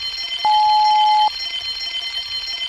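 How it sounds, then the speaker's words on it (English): A steady electronic alarm tone sounds for just under a second, loud and unbroken, over a faint background hum. "Soon came the alarm."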